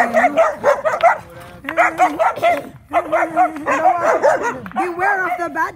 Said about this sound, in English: beware of the bad dogs. These are my bad dogs.